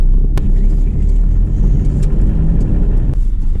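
A white car's engine rumbling steadily from inside the cabin, a loud, constant low drone with faint clicks and no talking.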